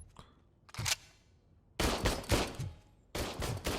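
Gunfire at shooting practice in the video game Robocop: Rogue City, a short burst, then two longer rapid volleys of loud, close shots with brief silence between.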